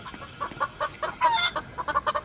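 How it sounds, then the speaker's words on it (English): A video game chicken clucking in quick, rhythmic bursts, close and fairly loud, with a short flurry of agitated squawks midway, alone with no talk. "I'm not gonna die to the chicken."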